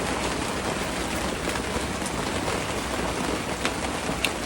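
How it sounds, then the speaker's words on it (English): Steady rain pours onto an RV camper during severe weather in Georgia, a dense, even hiss throughout with occasional louder drops tapping close by. "Yeah, that's the rain."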